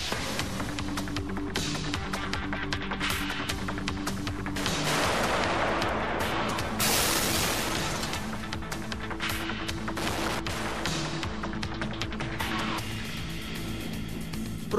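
A series of loud booming explosions and bursts of gunfire-like blasts, dense and chaotic, rumbling on throughout.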